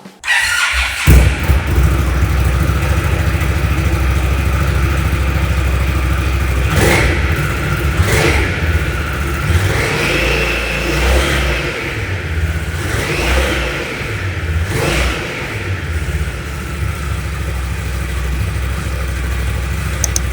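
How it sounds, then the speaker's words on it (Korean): A 2022 Indian Scout Bobber 1133cc motorcycle with stock muffler idles loudly and close, then revs up several times in quick bursts, with a deep, throbbing exhaust note. "순정 머플러입니다. 소리 한번 들어보겠습니다."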